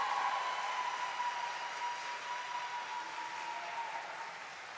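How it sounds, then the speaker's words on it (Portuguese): Applause from an audience in a municipal council plenary session, a soft, steady wash of clapping heard from a distance, gradually fading. "essas palmas são para vocês"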